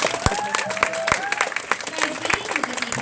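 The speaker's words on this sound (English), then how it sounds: "Please give these lovely suitors and princess a round of applause." Convention audience at a Disney dating game panel claps and cheers, a loud broadband wash of applause with sharp individual claps and shouted whoops mixed in, talk-like voices riding over the crowd throughout.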